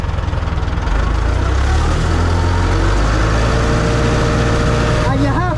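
Tractor engine running loud and close with the PTO engaged to drive a new flail mulcher, a continuous heavy low drone that steadies after a brief change near the start, with a voice briefly heard near the end.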